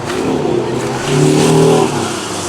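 A BMW M8 Competition's engine revs nearby at a car gathering, a loud steady roar that swells briefly in the middle, with faint voices in the background.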